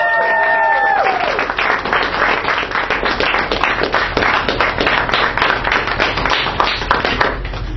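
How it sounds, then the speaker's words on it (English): An audience gives a round of applause for a Republican running mate at a nomination event, a loud, sustained wash of many hands clapping that holds steady throughout, with a brief voice at the very start. "So please give a round of applause for my running mate, Noah Cunningham."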